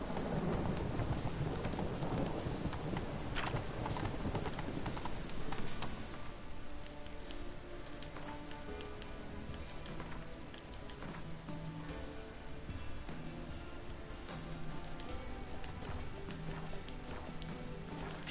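Roach the horse galloping in a video game, a steady run of hoofbeats that is loudest in the first few seconds and then settles into an even, continuous clip-clop beneath music.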